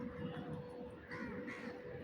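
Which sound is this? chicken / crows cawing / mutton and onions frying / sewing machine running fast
crows cawing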